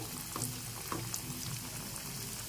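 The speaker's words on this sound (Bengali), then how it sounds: "এখন এভাবে কাটলেটগুলোকে একটু ভালো করে ভেজে নিতে হবে" Chicken cutlets fry in hot oil with a soft, steady crackle and a few faint pops, quiet and close.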